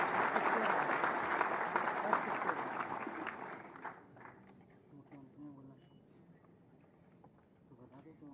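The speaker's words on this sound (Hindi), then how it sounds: "आप सबकी जोरदार तालियों के अभिवादन के साथ" Loud audience applause welcoming the chief minister at a government appointment-letter ceremony in Uttar Pradesh, a dense sustained wash of clapping for about four seconds before fading into quieter hall sounds and murmur.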